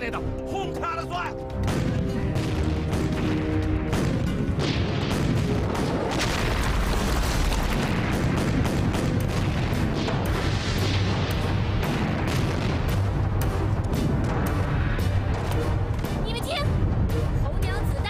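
Cannon fire and bombardment explosions in a period drama battle scene, a continuous loud barrage of booming blasts and crashing impacts that fills the whole stretch after a brief quieter opening.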